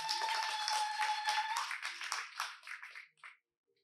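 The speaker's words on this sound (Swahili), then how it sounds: "Mchapie Yesu makofi" A church congregation claps hands together in a brisk burst that thins out and stops after about three seconds, leaving near silence.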